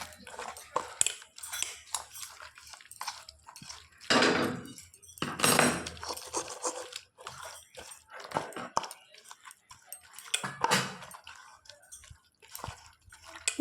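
Ginger, garlic and yogurt marinade being mixed by hand in a bowl, giving wet squelching and slapping sounds in irregular bursts, close and fairly loud, with occasional clinks.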